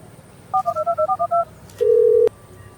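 Telephone keypad tones: eight short, evenly spaced beeps in quick succession, then a brief pause and one longer, steady tone, loud and clear over a quiet background.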